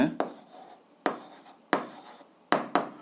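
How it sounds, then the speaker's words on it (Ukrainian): Pen or marker writing answers for an 8th-grade algebra exercise, heard as four or five sharp strokes and scratchy bursts, each tapering off, close and fairly quiet with no talk. "записуємо відповідь, пишемо відповідь"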